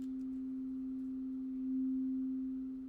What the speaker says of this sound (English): so now it starts to beat and pulse and chorus a little bit